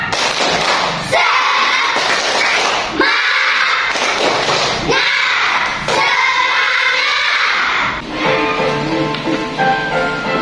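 A class of fourth-grade children in a classroom does a rhythmic group clap with bursts of loud, sharp claps and shouting voices, arranged in several repeated segments, ending with a voice speaking over quieter background.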